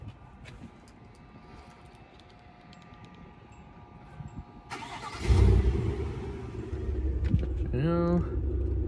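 A 2022 GMC Yukon XL Denali engine cranks and catches about halfway through, then settles into a steady close idle after a quiet stretch, with a voice and a brief chime near the end.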